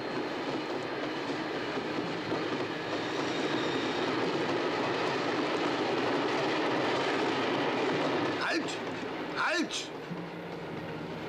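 A steady, loud rumble of a moving train fills the scene from a World War II ambush game. Two brief squealing sweeps of brakes or metal come near the end, over continuous noise, and no one speaks.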